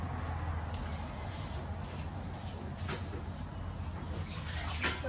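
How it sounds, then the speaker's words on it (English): Running water from a tap as paint is washed off hands, a steady close splashing rush with small scrubbing and dripping sounds throughout. "Just washing off my hands"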